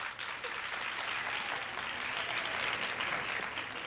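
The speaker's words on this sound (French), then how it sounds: "On applaudit notre concurrente numéro 8" An audience applauds a female game-show contestant in a steady, dense wash of clapping that stays fairly even and close throughout, with no voices over it.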